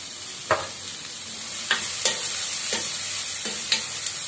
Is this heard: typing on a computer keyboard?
no